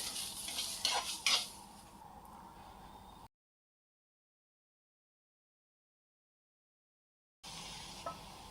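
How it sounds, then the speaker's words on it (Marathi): A spoon stirs garlic, green chili, ginger and cumin in a pan, giving a short burst of clinks and scraping over a low sizzle, then a long dead silence before a faint sizzle returns. "आता आपण याला मिक्स करून घेऊ"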